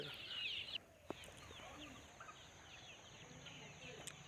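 Local chickens cluck around a feeder on a mixed poultry farm, soft overlapping clucks at a moderate distance under steady background hiss, with a short sharp knock partway through.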